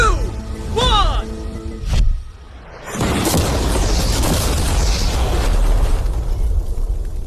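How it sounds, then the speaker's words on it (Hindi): An ordinary car is blown up in an explosion, a loud boom that gives way to a long, steady roar of blast and debris noise, following a person talking beforehand. "चलो उड़ाते हैं एक नॉर्मल कार को और देखते हैं कि पैसेंजर्स बच पाते हैं या नहीं"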